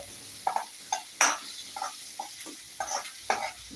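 Okra with turmeric being stirred and fried in a pan, a faint sizzle punctuated by about eight distinct spatula scrapes and taps in an uneven rhythm, close and moderately loud, with no voices.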